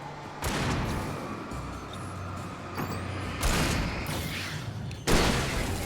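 Gunfire bursts from the Alan Wake video game, several loud broadband blasts with a steady rumbling game soundscape between them, no talking.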